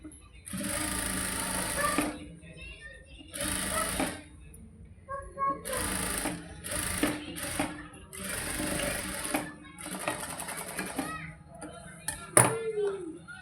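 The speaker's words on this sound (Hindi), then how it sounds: "एक सिलाई हमको यहाँ लगा देंगे" A sewing machine stitches the hook strip onto a katori blouse in several bursts of rapid running, pausing between runs, with small handling clicks close by.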